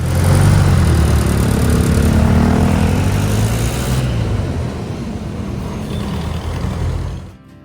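Dense street traffic in Manila, thick with small motorbikes: a loud, steady roar of engines and passing vehicles close by, continuous before fading out at the end.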